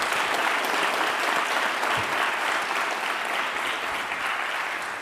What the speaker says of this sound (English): let's have another quick round of applause